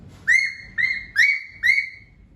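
A human voice mimics a wild bird chirping, whistling four bright, rising tweets at an even pace, loud and close with no other sounds.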